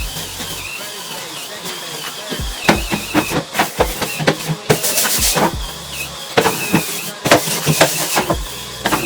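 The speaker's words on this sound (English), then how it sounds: "I'm gonna spray up here." A spray cleaner hisses out in a series of short, sharp bursts, some quick and paired, with quiet pauses between sprays.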